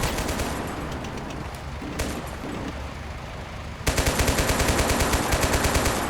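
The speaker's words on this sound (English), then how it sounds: "I mean, you need to be firing." Machine gun fire in the video game Total Conflict: Resistance comes as dense, loud automatic bursts. Steady rattling near the end gives way to sharp, rhythmic rapid shots.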